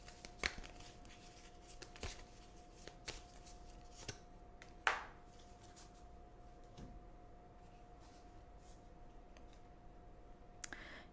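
Soft, quiet rustling and scattered clicks of oracle cards being shuffled by hand during a tarot reading, with one sharper snap partway through and no voices.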